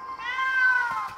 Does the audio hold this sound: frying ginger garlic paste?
no